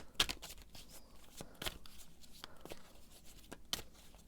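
Tarot cards being shuffled in bursts of quiet riffles and soft slaps, several short crisp strokes spread across the clip, close and faint, with no talking.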